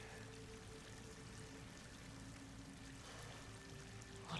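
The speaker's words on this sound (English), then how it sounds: "Water's coming in." Water pouring and streaming into an enclosed space in Horizon Forbidden West, a constant, quiet wash of rushing water with a faint tonal hum beneath and no speech.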